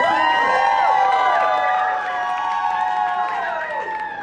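An audience at an Auckland art battle bursts into loud cheering, with overlapping whoops and high shouts over a bed of clapping, staying strong for a few seconds before tapering slightly.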